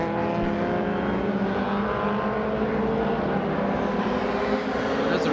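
Open-wheel race car engine during MRF Challenge Round 3 qualifying, a steady sustained drone with harmonic whine held throughout, moderately loud and continuous, with no distinct passes or gear changes standing out.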